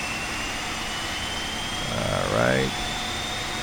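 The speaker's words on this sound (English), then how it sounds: "God, this is a good sounding airplane." A steady engine whine and roar from a Boeing 737-300 in the IXEG flight simulator game fills the cockpit, with a brief rising-and-falling swell near the end and someone speaking briefly over it.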